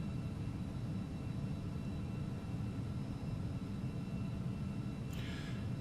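Carenado Falcon 50EX business jet climbing out after takeoff in the Prepar3D flight simulator, a steady, even cabin rumble of jet engines that holds constant throughout, with a brief higher hiss near the end.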